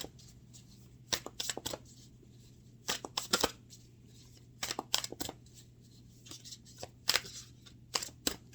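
Tarot cards are shuffled in quick riffling bursts, several short papery flurries separated by brief pauses, close and fairly quiet.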